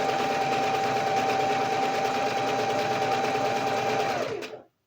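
A sewing machine stitches a curved seam on a cotton shirt, running in one steady close whirring drone for several seconds before stopping abruptly at the end.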